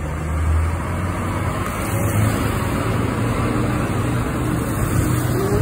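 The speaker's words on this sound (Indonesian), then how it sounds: "Ini ada bus laju, wah ini tujuan Banyuwangi nih" A bus rolls through Bungurasih bus terminal, its steady engine drone and road rumble close and loud, blending with broad terminal traffic noise throughout with no talking.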